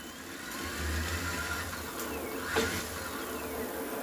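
TSDZ8 mid-drive motor on a freshly built electric bike running at full throttle, a steady low hum with a faint rising whine over a constant background hiss.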